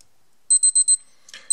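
A Seiko Prospex solar watch sounds its alarm test as four quick, bright electronic beeps in a row, close and loud in near silence, followed by a faint click.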